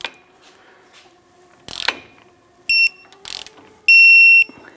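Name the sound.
torque wrench tightening car lower ball joint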